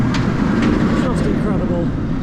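Shambhala roller coaster at PortAventura passing by, a loud rushing rumble of the train on its track with faint screams above, steady throughout and fairly close.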